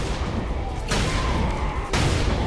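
Loud, continuous blasts in Saints Row 4, with two sharp booming onsets a second apart over a dense, sustained rumble of gunfire-like crackle and roar.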